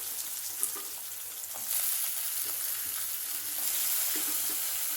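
Chopped shallots sizzle steadily in hot oil in a pan for a ridge gourd thokku, a dense continuous frying hiss with faint scraping, growing slightly louder midway, close and with no talk.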